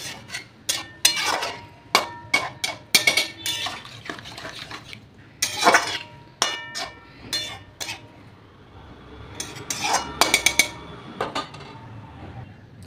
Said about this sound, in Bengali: এবার একটু ঢেকে রাখবো